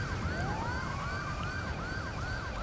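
Ambulance sirens wailing in GTA 5, a steady repeating rise-and-fall tone, fairly loud and continuous over traffic rumble.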